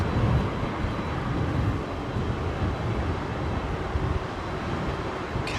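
A Qatar Airways Airbus A350 at London Heathrow gives off a steady, distant broadband jet roar that holds level for a few seconds with no talk.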